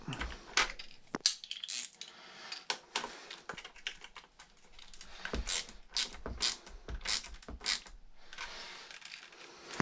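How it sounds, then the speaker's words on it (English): Small metal clicks and ratcheting taps sound as a nut is tightened onto a sway bar bolt on an X-Maxx RC truck, quiet and irregular, with brief pauses between bursts. "Put our nut on the front and tighten her up."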